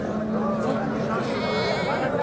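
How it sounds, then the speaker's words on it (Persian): Sheep bleat amid the dense crowd noise of a busy livestock market in Bokhtar, where sheep and goats are traded. The animal calls are partly buried under constant chatter and voices throughout. "اینا گوسفندو."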